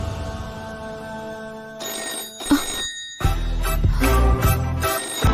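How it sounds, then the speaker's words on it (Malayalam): A telephone rings repeatedly, its bright electronic bell sounding in several bursts, growing fuller and louder toward the end, with no talking. "ആരെങ്കിലും വിളിച്ച ഫോൺ എടുക്കാനല്ലേ ചേച്ചിയുടെ അമ്മ പറഞ്ഞത്?"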